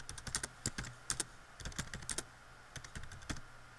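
Bursts of rapid computer keyboard typing while an SQL script is written, close and clear, with short pauses between quick clusters of keystrokes.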